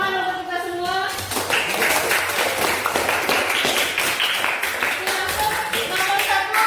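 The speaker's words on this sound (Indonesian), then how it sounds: "Oke, tepuk tangan untuk kita semua." A classroom group applauds in a coaching session, dense steady clapping running throughout, with voices audible underneath and singing-like tones at the start.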